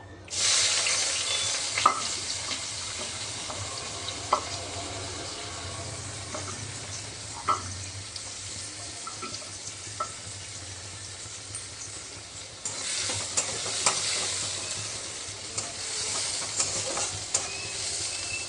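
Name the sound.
katla fish frying in oil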